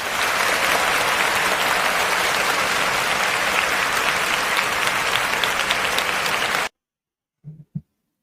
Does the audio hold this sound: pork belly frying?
no